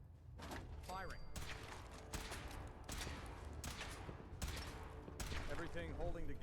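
Weapon bursts in Fallout 4, several loud booming shots spaced about a second apart, each with a long rumbling tail, over game ambience and intermittent talking.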